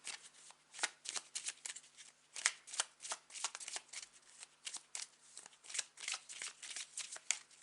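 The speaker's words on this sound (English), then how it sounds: "So I'm going to pull out one last card to get a final message for you." Tarot cards being shuffled by hand in a steady run of crisp riffling bursts, close and fairly quiet, with no talking over it.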